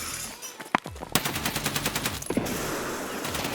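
Rapid bursts of automatic gunfire from pre-firing around a corner in Escape from Tarkov, with sharp cracks followed by a fast rattling volley and a second burst, loud and close with no voices.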